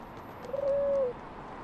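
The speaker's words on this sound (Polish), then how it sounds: "Czy to ten gołąb?" A single pigeon coo, one smooth sustained call lasting about half a second, fairly faint over a steady background hiss.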